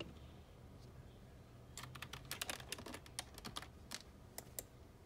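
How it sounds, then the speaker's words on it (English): Keys clatter on a computer keyboard as a search term is typed, a quick run of crisp clicks after a quiet pause, close by and fairly soft. "I'm gonna go here to search, and I'm gonna type in soda."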